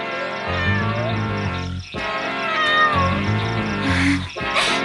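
A cat named Minou meows repeatedly, several drawn-out calls over a steady musical background.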